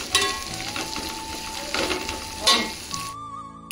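Mint leaves fry in hot oil for a Telugu roti pachadi, a close, steady sizzle with a few louder bursts and light stirring scrapes, briefly dropping away near the end.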